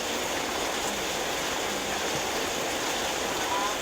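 Steady, dense rain falling, a constant hiss that holds at an even level throughout with no clear breaks.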